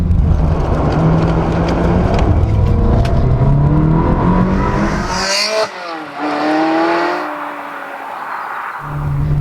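Ferrari 360 Modena V8 exhaust, revving hard with the pitch climbing through the gears, then a brief drop and a fresh surge of acceleration; loud and close, with no talk.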